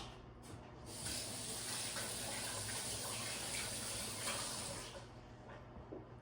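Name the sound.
washing hands under running tap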